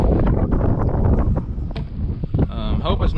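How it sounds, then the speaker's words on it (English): Strong wind blowing hard across a microphone while fishing from a boat near standing timber, a loud continuous rumbling roar with rattling gusts throughout. "It's still super windy."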